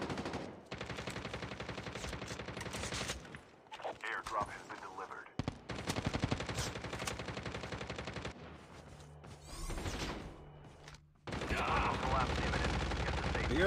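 AK-47 fire in a mobile shooter game played on a Xiaomi Pad 5, rapid automatic bursts in several long stretches separated by short pauses, loud and close, with game voice announcements mixed in.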